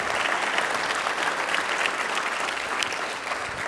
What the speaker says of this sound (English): Yeah, let's clap it up for that.